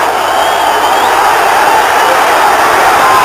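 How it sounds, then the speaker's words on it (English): A boxing arena crowd roars in a dense, loud, steady wall of cheering and shouting from all around the ring, unbroken throughout. "Crowd going crazy."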